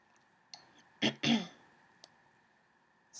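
A woman with allergies and a stuffy nose clears her throat in two short, rough bursts, close and quiet, preceded by a faint click in a calm room.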